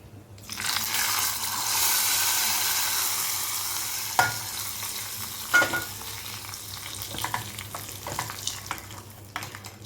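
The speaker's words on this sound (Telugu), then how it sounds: "కాస్త 2 ఎండుమిరపకాయలు, కొద్దిగా కరివేపాకు వేసుకొని ఒకసారి కలుపుకుందాం." Dried red chillies and curry leaves frying and being stirred for a tomato chutney, a steady close sizzle with scraping clicks of the spoon scattered through, no voices.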